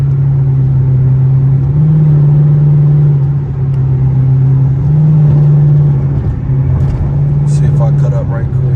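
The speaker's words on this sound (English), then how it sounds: "Still hear the exhaust." A straight-piped Dodge Charger R/T exhaust drones loudly and steadily while driving on the street, holding a deep, constant rumble with slight dips in pitch, heard close up from inside the car.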